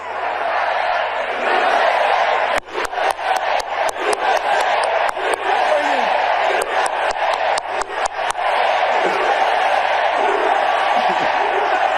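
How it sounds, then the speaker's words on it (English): A large crowd at a rally in Arizona roars and chants "USA, USA" steadily for the whole stretch, loud and close, with sharp bursts of clapping or thumps scattered through the middle. "Do you hear the crowd in Arizona chanting USA, USA as Governor Walz giving his speech"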